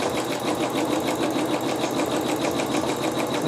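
A sewing machine basting around a quilt block runs in a fast, steady mechanical stitching rhythm, close and continuous throughout.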